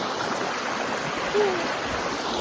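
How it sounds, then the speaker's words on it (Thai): Strong, steady rush of water pouring over a small waterfall tier at Ban Wang Hon in Chawat, Nakhon Si Thammarat, loud and close, filling the whole stretch without pause. "น่าจะเรียกว่าเป็น น้ำตกอีกชั้นหนึ่งคุณเห็นไหม นี่น้ำมันก็จะค่อนข้างสะไหลแรงนิดนึง"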